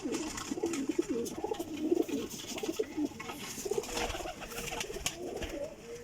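Pigeons coo repeatedly in low, throaty murmurs, several birds overlapping close by, with some rustling and background noise.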